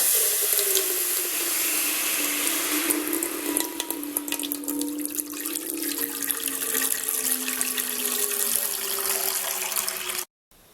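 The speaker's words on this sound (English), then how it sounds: "Take a pot, pour enough water." Tap water runs steadily into a cooking pot for noodles, the pitch rising gradually as it fills, close and continuous before cutting off abruptly.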